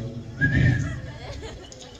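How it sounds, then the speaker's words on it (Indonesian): A short whistled note from a man, brief and close, with faint murmuring around it. "si bapaknya sambil bersiul"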